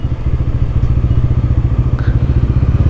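A motorcycle carrying three riders on 300 Feet road, its engine throbbing loud and close in a steady, rapid low pulse as it passes.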